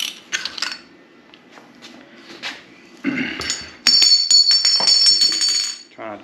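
A hand ratchet works on a motorcycle fork bolt during a fork seal replacement, giving bursts of sharp metallic clicks and clinks, sparse at first and then a faster, louder run of ratcheting near the end.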